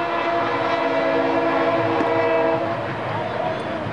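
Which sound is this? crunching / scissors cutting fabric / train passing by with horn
train passing by with horn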